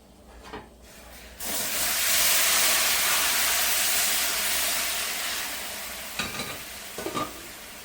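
Boiling salted water poured into semolina for upma sets off a sudden loud sizzling hiss and steam burst that slowly fades, followed by scraping stirs in the pan.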